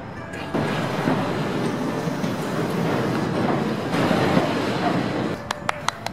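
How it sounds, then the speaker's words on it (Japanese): A steady, loud rumble of a Tobu train crossing a railway bridge in Asakusa, with rhythmic clattering over the bridge's rail joints and a few sharp clicks near the end. "鉄橋の下のね、つなぎ目の音ね、いいですよ"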